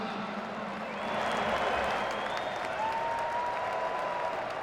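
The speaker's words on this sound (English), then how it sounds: "A big round of applause for our sponsors tonight." Crowd at a college football bowl game applauds in a broad, distant wash of clapping and cheering inside a large stadium, continuous and slightly swelling partway through.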